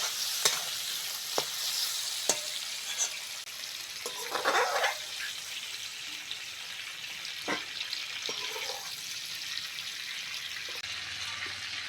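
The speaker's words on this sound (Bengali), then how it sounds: "এগুলো ভালো করে ভেজে নিয়েছি এবার তেল থেকে তুলে নেব" Taro and potato pieces frying in hot oil for a village-style shrimp curry give a continuous close sizzle, broken by occasional sharp utensil clinks and a brief burst of stirring.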